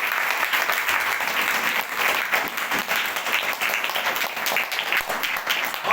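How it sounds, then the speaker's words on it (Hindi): A church congregation applauds steadily and loudly for several seconds, the clapping dense and sustained with a faint murmur of voices beneath. "इस बहन के लिए ताली बजा दीजिए।"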